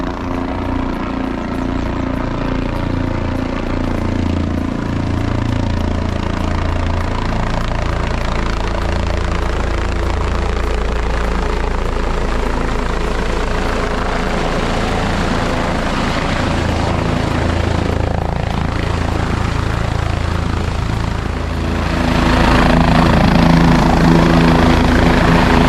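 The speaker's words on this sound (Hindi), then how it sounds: "और ये लीजिए, आज के दिन का पहला हेलीकॉप्टर आ रहा है।" Helicopter arriving at Kedarnath at dawn, the first flight of the day: a loud, steady rotor and engine roar fills the scene throughout, swelling even louder near the end as it draws closer, with no talk.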